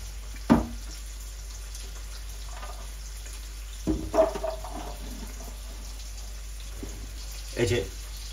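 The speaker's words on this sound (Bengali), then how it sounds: "তো এই আগাছা ফুলটা আমরা ভালো করে এখন ধুয়ে নিব" Agasta flowers, whose stems are also edible, are rinsed under running water: a faint, steady trickle with a few brief splashes and handling sounds, while someone talks over it.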